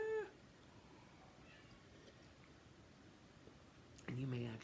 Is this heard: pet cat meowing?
yes